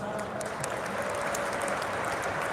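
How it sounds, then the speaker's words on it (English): A large conference audience on a main stage applauds together in a steady, dense round of clapping that fills the room evenly from start to finish. "Give yourselves a round of applause."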